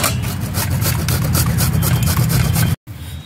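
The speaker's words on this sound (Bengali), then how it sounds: "পেঁয়াজ আর লঙ্কা ঘষে নেব" Onions and chillies are rubbed and mashed by hand in a dense, rhythmic scraping that runs steadily, breaks off abruptly near the end, then resumes briefly and more faintly.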